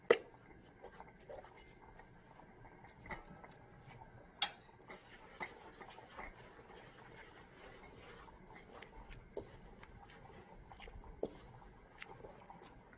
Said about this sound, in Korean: 수저로 반죽을 하면서 반죽 상태에 따라서 물 조절을 하겠습니다.